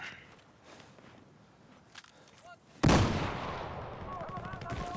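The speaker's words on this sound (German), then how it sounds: "Geschossen!" Gunfire on the Metro map of an online shooter: quiet footsteps and faint shots at first, then a sudden loud close shot followed by a noisy, rumbling tail.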